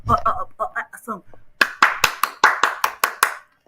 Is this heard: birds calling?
no